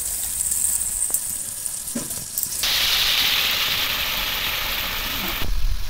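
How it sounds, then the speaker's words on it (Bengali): Spice paste with chili powder and water sautéing in a hot pan, sizzling and hissing steadily with a few stirring knocks, the sizzle swelling louder partway through and staying close. "এবার দিয়ে দেবো লঙ্কা গুঁড়ো, জল দিয়ে মশলাটা ভালো করে একদম কষিয়ে নেব।"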